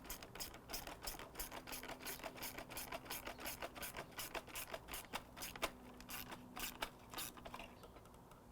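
Rapid metallic ratchet clicks in quick regular bursts as a bolt is tightened on a pool cleaner, close and fairly quiet, with a faint hum underneath.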